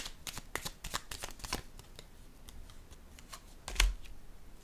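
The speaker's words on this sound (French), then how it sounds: "Je vais déposer une carte ici," Tarot cards being handled and laid down make a quiet flurry of soft, crisp flicks and slaps, then a pause and one firmer tap as a card is placed, with no talking.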